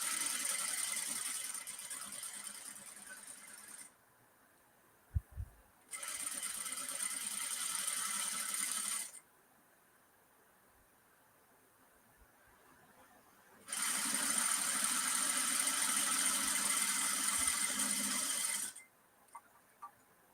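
A sewing machine stitching stretchy fabric runs in three separate bursts of steady, whirring needle chatter, each lasting a few seconds, divided by quiet pauses with small clicks and knocks.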